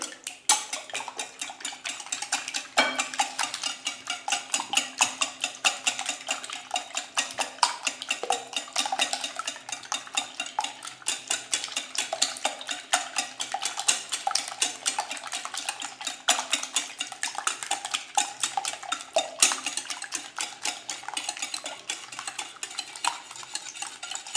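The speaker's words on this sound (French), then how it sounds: "Je vais d'abord commencer par le sel. Je vais mélanger." A spoon stirring salt and spices into a pot, with a continuous rapid scraping and clinking of metal against the pot, steady and close, no voices.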